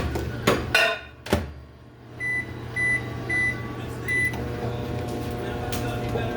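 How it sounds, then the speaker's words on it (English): A microwave oven melting butter hums steadily after a few clunks of the door and buttons, with a short series of high beeps, moderately close with no talking. "we're going to melt the butter in the microwave"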